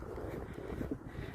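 Wind buffets an outdoor microphone on a sunny day, a steady low rumbling rush with soft gusts and no other clear sounds.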